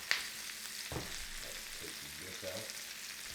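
Steak sizzles softly in a pan, a steady frying hiss with a few clinks and shuffles as a voice speaks briefly over it.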